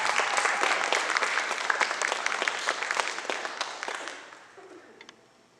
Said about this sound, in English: All right, everyone give her a round of applause.